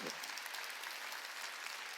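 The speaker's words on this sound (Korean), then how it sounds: "깨달은 사람만 박수 치라고" A church congregation at a Wednesday worship service claps together as a broad, even wash of applause, fairly quiet and distant, steady from start to finish without individual claps standing out.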